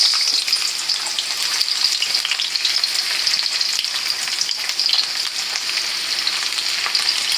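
Onion sizzling loudly in a hot pan for pork and chicken adobo, a dense, steady crackling fry close up with no voices.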